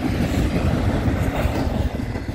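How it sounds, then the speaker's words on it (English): A southbound autorack freight train led by a single CN ES44DC locomotive rumbles past close by, a loud continuous roar of wheels on rails with a steady rattling clatter. "I knew I heard a train coming"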